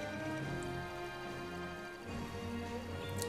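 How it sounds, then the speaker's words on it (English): Steady rain hisses softly in The Legend of Zelda, a faint, even patter under sustained game music. "and it's raining, of course it is"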